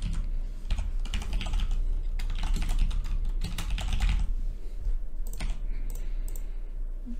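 A password typed on a computer keyboard: quick clusters of close key clicks in uneven bursts with short pauses, over a low steady background hum and no talk.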